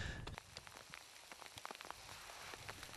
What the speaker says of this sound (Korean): 지금은 이 우박이 내려오네요